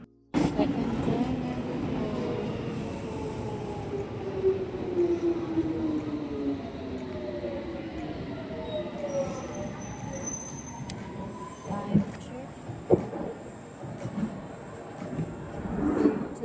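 A London Underground train at a station sounds a long rising and falling metallic wheel squeal over a continuous rumble, with a few clanks near the end. The train is close and loud throughout.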